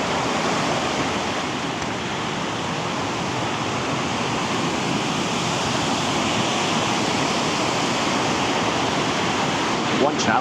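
Steady, dense rush of a waterfall in a Canadian rainforest, a broad continuous roar holding level for the whole stretch with no voices over it.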